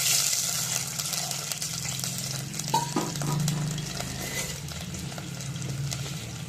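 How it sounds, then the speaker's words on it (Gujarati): A burst of hissing and bubbling as water hits a hot oil tempering of mustard seeds, curry leaves and chilies, with stirring clinks and a brief faint tone midway. "વઘારમાં આપણે નાખી દીધું થોડું પાણી"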